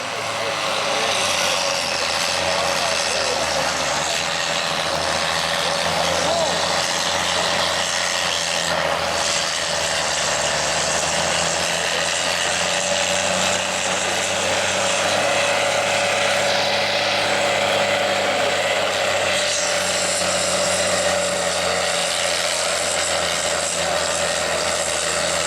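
A pulling tractor with a 6-cylinder, 401 cubic inch engine rated at 170 PTO horsepower, working in the 22,000 lb class at a tractor pull, roars steadily and loudly for the whole stretch with a broad rasping drone and shifting pitch.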